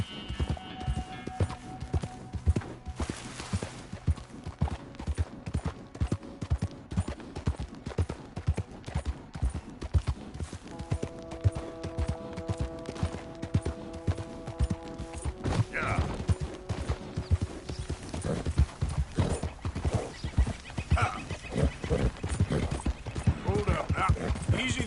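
Horse hooves clip-clop steadily and rhythmically in the video game Red Dead Redemption 2, close and continuous over about 25 seconds, with game voices talking intermittently over the hoofbeats.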